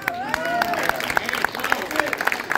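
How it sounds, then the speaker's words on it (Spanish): Audience applause for a bassist at a live band show in a community hall, steady clapping from a small crowd with someone talking over it and a few whoops. "Acá en el bajo, un aplauso para Eddie."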